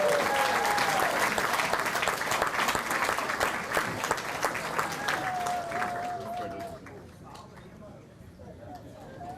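Banquet crowd at a sports hall of fame induction dinner claps steadily for an inductee, dense applause fading toward the end, with a voice over a microphone and chatter mixed in.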